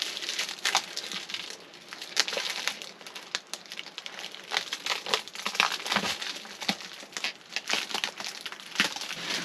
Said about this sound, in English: So let's cut this bag off first.